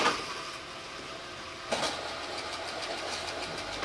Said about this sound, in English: We have two rotors and I'm going to spin them for you.